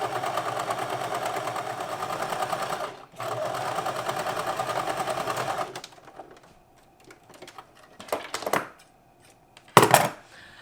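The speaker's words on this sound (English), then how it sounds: "I'm gonna do a zigzag stitch, and I'm going to sew it all along this whole line here." A sewing machine runs a zigzag stitch along fabric for a skirt waistband, a loud steady mechanical whir in two long runs with a brief pause, then stopping, followed by scattered clicks and handling noises.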